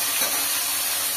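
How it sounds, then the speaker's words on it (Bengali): Fish frying in a pan gives off a steady, dense hiss and sizzle of hot oil, loud and close, with no speech over it. "মাছগুলো ভাজতে বসিয়ে দিলাম।"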